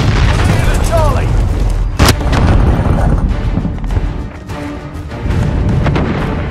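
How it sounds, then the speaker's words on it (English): A cruise missile explodes in Call of Duty: Modern Warfare with one sharp, loud boom about two seconds in. It rises over a constant bed of battle noise and gunfire that keeps rumbling on afterward. "cruise missile incoming"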